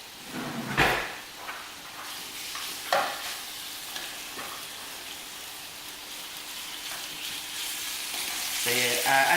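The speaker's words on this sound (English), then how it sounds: "I'm going to cook my beef in about half batches." Beef sizzling hard in a hot pan in half batches while being stirred, a steady close hiss with occasional utensil scrapes and knocks throughout.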